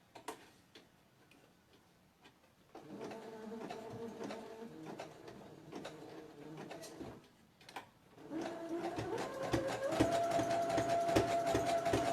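A home sewing machine stitches through a thick stack of fabric layers for a small bunny outfit, its rapid ticking needle bursts starting and stopping, then running steadier and louder toward the end.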